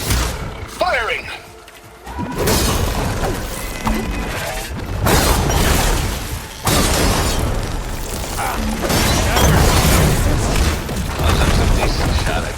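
Weapon fire in the Horizon Forbidden West video game: loud booming shots and crashing impacts in a dense, continuous game mix, with character voices calling out over the action.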